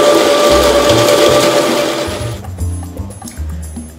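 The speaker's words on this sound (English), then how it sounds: "Next, we dump it into the grinder and let it go." An electric coffee grinder runs through a 21-gram dose of coffee beans, giving a loud, steady whirring drone for a couple of seconds before the grinding noise drops away into quieter, lower mechanical sounds.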